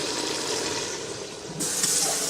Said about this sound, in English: I'm going to get a can of water.